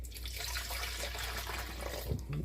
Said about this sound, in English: I'm going to have to dump this all into the measuring cup and change the water out